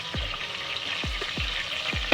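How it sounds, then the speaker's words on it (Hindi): A small, finely chopped onion sizzles steadily in hot oil, a close, continuous crackling hiss with a few low thuds from the pan underneath. "ये देखिए ऑयल गरम हो चुका है। अब इसमें ये छोटा सा एक प्याज है जिसको मैंने काट लिया बारीक बारीक,"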